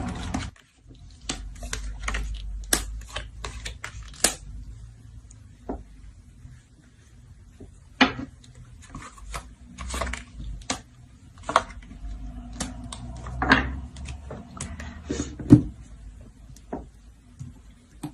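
Tarot cards being shuffled by hand, giving a scattered series of close, crisp snaps and soft riffling rustles over a quiet room, spread irregularly across the stretch with brief lulls.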